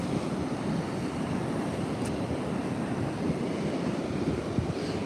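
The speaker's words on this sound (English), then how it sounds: "Watch the ocean." Steady ocean surf rolls continuously with wind buffeting the microphone, a dense, constant wash of waves at moderate loudness throughout, no voices.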